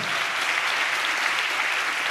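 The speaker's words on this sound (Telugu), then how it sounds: "గట్టిగా చప్పట్లు కొడుతూ స్తోత్రాలు చెప్దాం" A church congregation claps loudly in praise, a dense, steady wall of applause that holds at full strength from start to finish.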